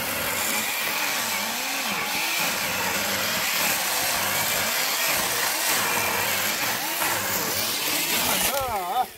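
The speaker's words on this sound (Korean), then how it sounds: "드디어 톱질은 끝났습니다." A chainsaw cuts logs into winter firewood, its motor droning steadily and loudly with a fluctuating whine, and a voice is heard faintly over it.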